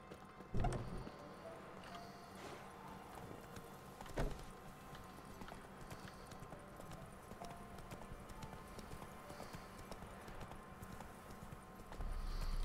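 Horse hooves clip-clop at a steady walking pace in the video game The Witcher 3: Wild Hunt, a rhythmic clatter over a low ambient background with a few louder thumps.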